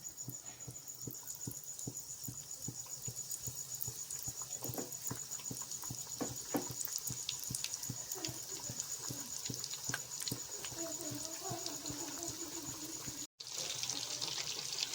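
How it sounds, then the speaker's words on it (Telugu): KFC-style chicken pieces deep frying in hot oil, a steady dense crackle and sizzle of bubbling with fine popping throughout, close and continuous with no talking. "మనం ఒక 5 మినిట్స్ ఇవి ఈ ఆయిల్లో ఇలా డీప్ ఫ్రై చేసేసుకోవాలి."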